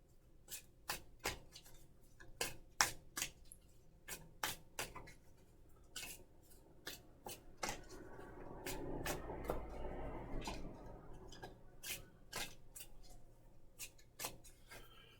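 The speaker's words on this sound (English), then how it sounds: "So I'm going to give this a shuffle." A deck of cards being shuffled at a table, with crisp repeated riffle snaps and flicks in quick bursts and a softer sliding rustle in the middle, close and quiet with no talk.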